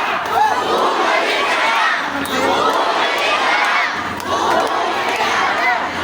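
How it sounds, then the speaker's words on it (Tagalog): A large crowd at a Filipino political gathering shouts and cheers together in a loud, sustained roar, with voices rising and falling in waves. "ang sinisigaw ng taong bayan, bumalik ka na"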